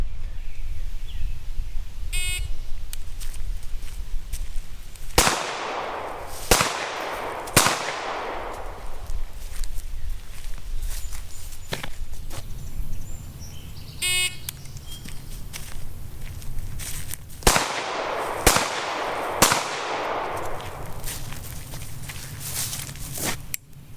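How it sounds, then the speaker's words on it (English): A shot timer emits a short electronic beep to start a Delaware law-enforcement handgun qualification course fired with an R1 Enhanced Commander pistol; the beep is followed by several loud, sharp gunshots in clusters of two or three, with quieter beeps at intervals. "when you hear my timer beep, that's just a signal to begin"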